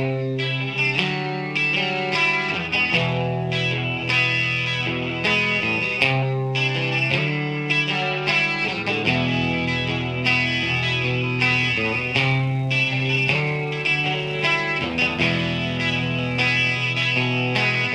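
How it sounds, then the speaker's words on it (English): Music played from two cassette tracks at once creates a sweeping tape flanging effect, with a distorted, swirling, phasing tone over chords that change steadily for the whole stretch; no speech. "Tape flanging is my favorite tape effect."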